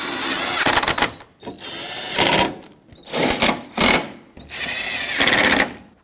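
A power tool whirs in repeated short bursts, snugging bolts on the radiator core support of a 2013-2020 Nissan Pathfinder, with brief pauses between each run, loud and close.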